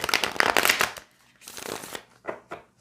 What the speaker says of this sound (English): shuffle on camera for you.